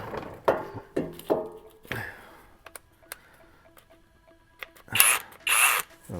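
A ratchet with a 3/4 inch socket works on the skid plate bolts of a Jeep XJ, with brief clicks and knocks between pauses and a couple of louder bursts of metal handling near the end.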